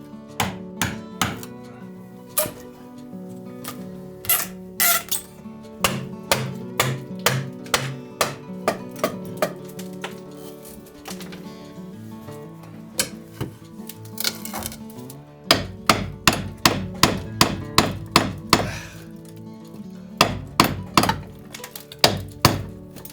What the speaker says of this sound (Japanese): ノコが入らないとこはやっぱり未だにこのノミで叩き切ってるんですけどね